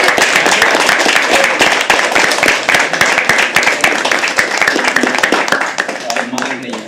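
Dense, steady clapping from an audience at a live poetry open mic, loud and close, holding for several seconds before tapering off slightly near the end.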